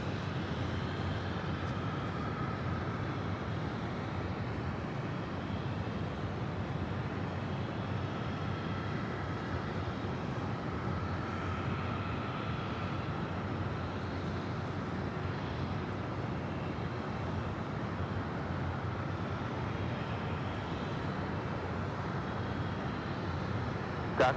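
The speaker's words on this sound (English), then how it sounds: "Delta Airlines Flight 311 coming in from Kona. It's an A321 Neos." Delta Airlines Airbus A321neo arriving at Los Angeles International Airport on runway 6 right, a steady broadband engine roar that holds at an even level throughout, moderately distant with no talk over it.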